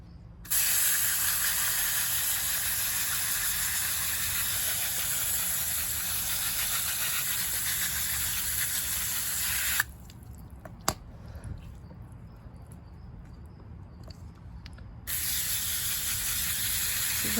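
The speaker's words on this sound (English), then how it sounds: "let's hose it down" Water from a garden hose sprays steadily over freshly de-flasked orchid roots, a loud continuous hiss that breaks off into a quieter pause with faint knocks and handling before the spray starts up again.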